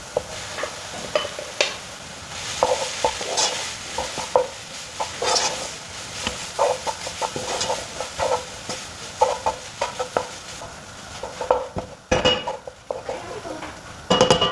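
Potatoes for a samosa filling are tossed and stirred in a sizzling pan, with repeated scraping and clinking of a spoon against metal over a soft, steady fry, some strokes sharper and louder than others.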